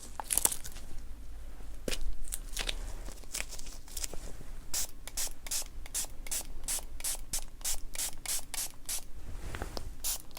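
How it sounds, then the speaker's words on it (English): Repeated short hissing bursts from a spray bottle misting onto skin, a rapid series of close, crisp sprays in a quiet setting, with soft rubbing sounds in between. "So I'll spray you one more time."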